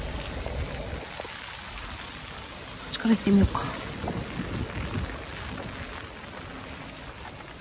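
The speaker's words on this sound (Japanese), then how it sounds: "ちょっと雨がすごいんで" Heavy rain during a town walk in Miyazaki's Miyakonojo, a soft continuous hiss of downpour on the street under someone speaking briefly midway, with occasional splashes and a passing rumble.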